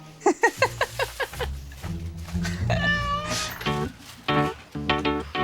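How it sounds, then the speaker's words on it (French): A young female cat meows repeatedly, starting with a quick run of short mews, then longer drawn-out cries and a wailing call, close and fairly loud with light background noise. "Oui, c'est une chatte"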